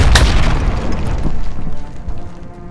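A single loud, close explosion in the Call of Duty: Modern Warfare video game hits at the start, then a long rumbling decay fades over the next few seconds.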